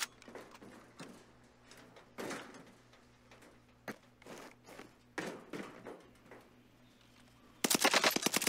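Scattered gunshots from a solos match in a shooter video game, single cracks and short bursts at irregular intervals, ending in a loud rapid burst of automatic fire at close range.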